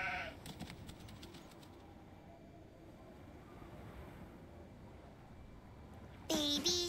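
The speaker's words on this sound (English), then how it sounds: "Oh, a sheep." A sheep in the Nancy Drew game The Haunting of Castle Malloy gives a short bleat at the start, then quiet ambient background follows until a second clear bleat near the end.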